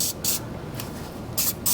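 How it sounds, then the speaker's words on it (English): Glass cleaner is sprayed onto brake parts in several short, hissing squirts spaced unevenly, each a brief burst of spray over a low, steady background noise. "I like to spray these down, clean them off. This is just glass cleaner"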